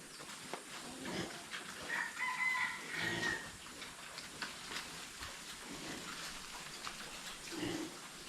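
Chickens cluck and a rooster crows at a pig-pen farm, faint and somewhat distant, with a few brief calls scattered over steady background noise.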